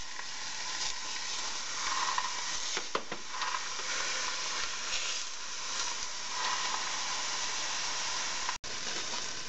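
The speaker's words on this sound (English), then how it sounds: "We'll cook it until the beef is evenly browned." Beef, onion and garlic browning in a pot over medium heat, a steady soft sizzle and hiss with a few faint scraping stirs, close and quiet, no talking.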